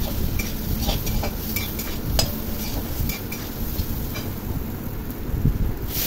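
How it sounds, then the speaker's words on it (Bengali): Mango pieces with salt and turmeric being stirred and fried in oil in a pan, making a steady low sizzle with scattered scraping and clinking from the spoon against the pan, with no talking. "আমগুলো ভালো করে তেলের মধ্যে নাড়াচাড়া করে নিলাম"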